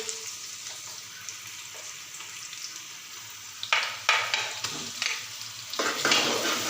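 Quiet background at first, then loud bursts of sizzling as ginger garlic paste hits hot oil, crackling up and fading in waves.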